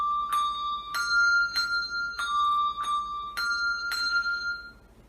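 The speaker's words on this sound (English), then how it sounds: "our secondary bell will ring in a forward motion like a handshake" Handbells rung British style with a forward, handshake-like motion strike six clear, evenly spaced times. Each bright, close stroke rings on and overlaps the next, fading slightly at the end.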